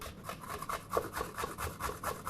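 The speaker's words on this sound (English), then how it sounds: "with a grater, I'm going to grate up the cucumber" A cucumber being grated on a grater for chickpea falafels, a close, even rasp of repeated back-and-forth strokes in a quick steady rhythm, with no voices.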